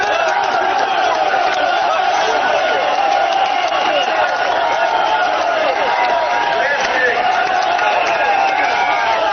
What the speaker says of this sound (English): The crowd is cheering because Mr. Khiang has entered the rally grounds.